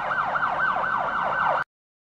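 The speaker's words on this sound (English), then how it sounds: "Police car." A rapid wailing police siren from a children's vehicle video game cycles up and down loudly for under two seconds, then cuts off abruptly to silence.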